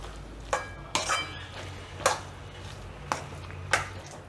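Fresh coriander being stirred into samosa filling in a pan, a handful of sharp spoon-on-metal clinks and scrapes spaced irregularly over a quiet background.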